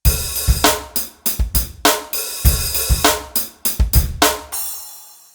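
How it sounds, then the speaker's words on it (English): A custom SuperNATURAL drum kit on a Roland FA-06 workstation plays a short groove of punchy kicks, snares and cymbal hits in a steady rhythm, loud and close, ending on a decaying crash. "we created our own custom drums"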